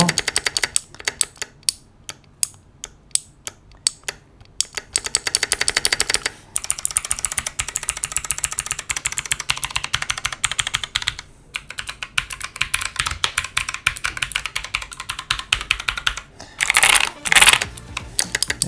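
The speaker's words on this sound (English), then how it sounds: "Do you guys like clicky keyboards? Like, that's obscenely clicky, no?" Rapid, crisp clicks from a very clicky mechanical keyboard with hot-swappable switches in a gaming setup, typed in fast bursts with short pauses, close and loud throughout.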